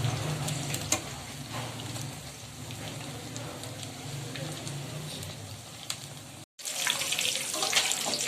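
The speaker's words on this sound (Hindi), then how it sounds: "ये देखें किस कदर अच्छे भून रहे हैं।" Potato pakoras frying in hot oil, a steady close crackling sizzle throughout that grows briefly louder after a short break.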